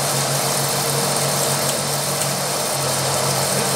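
Continuous mechanical hum of a Pratt & Whitney machine tool cutting metal at 453 RPM, a steady close drone throughout with no talking.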